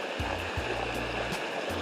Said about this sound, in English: This is exactly what the river is like, going downstream.